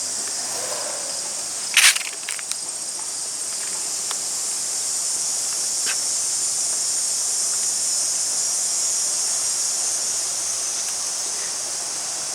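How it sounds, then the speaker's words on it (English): Cicadas buzz in a steady, high, continuous drone on a late August day in a garden, with a brief rustle near the start and faint breeze noise underneath. "the cicadas are out in full force"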